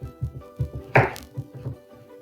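A knife makes one firm cut through blood orange vanilla bean bars in a pan, giving a single crisp chop set among softer low thuds and handling knocks.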